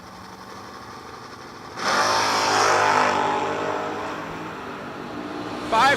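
Drag race cars, among them a 1971 Mopar Demon, launch off the line at a shore dragstrip; steady engine idle swells into a loud roaring acceleration, then fades a little before another burst.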